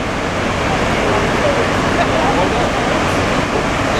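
A waterfall by a Norwegian fjord, heard from a boat, sends up a loud, steady, unbroken rushing roar that fills the whole stretch.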